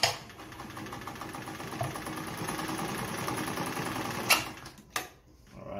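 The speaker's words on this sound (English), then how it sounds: "I'll sew through it again so you can see." A Frister & Rossmann sewing machine stitches through denim layers, a steady close mechanical whir with rapid rhythmic needle chatter, then a sharp knock and a stop near the end.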